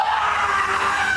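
A person screams in one sustained, loud, high-pitched cry lasting just over a second, close and alone with no other sounds.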